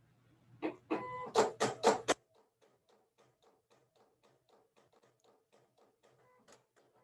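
An electronic cutting machine running while it cuts a sublimation project, making a loud burst of buzzy, rhythmic clattering strokes for about two seconds, then settling into a quieter, steady ticking pattern of regular small clicks.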